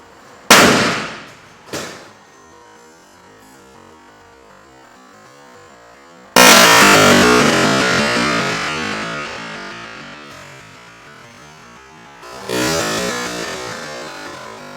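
A car airbag is set off by wiring it to a battery: two sharp loud pops, then a much bigger blast that slowly fades, followed by a further burst. Close and loud, with no talking.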